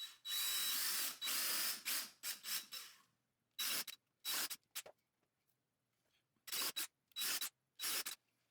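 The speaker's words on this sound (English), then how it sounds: "I pre-drill 6 countersinked holes per side." A power drill whirs in loud bursts while pre-drilling countersunk holes in wood for a bench, several quick runs, then a pause, then more short bursts separated by near silence.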